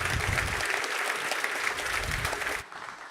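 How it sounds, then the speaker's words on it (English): A conference community-day audience breaks into a dense round of applause that carries steadily, then drops off sharply near the end, leaving a softer room tail. "Big round of applause."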